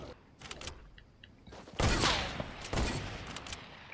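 Gunfire in a video game: a few faint early shots, then two loud, broad crackling bursts that each fade out, heard alone without talk.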